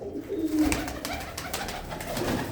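A pigeon with white-tipped markings coos close by in a soft, low, throaty call that pulses briefly and then repeats more faintly.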